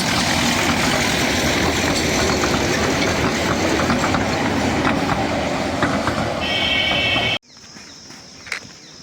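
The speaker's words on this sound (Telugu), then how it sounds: "సో గాయ్స్ చూడండి, ఇలా ట్రైన్ అయితే పోతుంది" A small toy train at Hyderabad's Nehru Zoological Park rumbles and clatters steadily close by for several seconds, then cuts off abruptly into a quiet background with a faint high tone.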